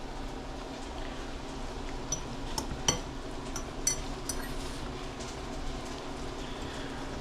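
Oyakodon ingredients are stirred and tossed in a pan, with soft scraping and scattered light clinks of a utensil against the pan over a low, steady background sizzle.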